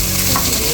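Choonga cactus being stirred into keema in a hot pan, a loud continuous close-up sizzle and scrape lasting under a second with no voices.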